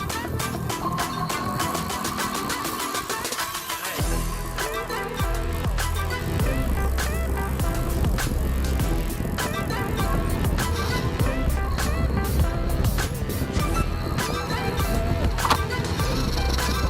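A Ziyoujiguang T18 electric bike with small wheels and a small battery riding at speed on flat ground, giving a steady, continuous rolling and road noise throughout, with a rougher, louder wash after the first few seconds.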